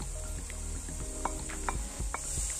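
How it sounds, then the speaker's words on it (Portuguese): Onion and grated carrot sautéing in a pan for Frango à Brás, a steady sizzle with occasional clinks and stirring taps from a utensil. "Vou deixar refogar apenas um minuto."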